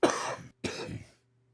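Two sharp coughs in quick succession, close and fairly loud, followed by quiet.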